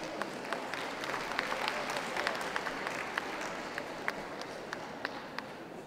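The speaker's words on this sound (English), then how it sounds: "Ladies and gentlemen, a round of applause for Judy Harrington." Audience applause in the arena at a city dog show, a steady sustained wash of many hands clapping at moderate distance, with a few sharper individual claps standing out through the crowd noise.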